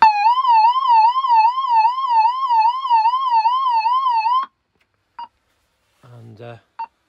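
A nuclear warning control point siren sounds a warbling, rising-and-falling electronic tone for several seconds, loud and close, then cuts off, leaving a few short beeps and a brief voice.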